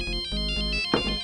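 A phone ringtone plays as a steady electronic melody of short repeating tonal notes, fairly loud and close, with a brief burst of other noise near the end and no voices.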